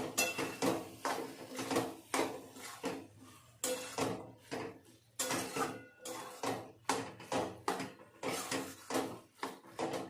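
Mixed vegetable bhaji with garam masala being stirred in a pan, heard as a run of quick, close clattering scrapes of a spoon against metal in irregular bursts, with no talking.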